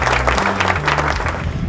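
Applause for the winning house at a school house-points announcement, a brief dense patter of clapping over a low steady sustained tone.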